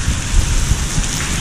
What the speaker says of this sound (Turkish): Şiddetli yağış başladı.